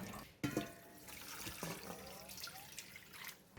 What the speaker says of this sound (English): Rinse the tapioca leaf with cold water a couple of times to remove the sap and the raw taste.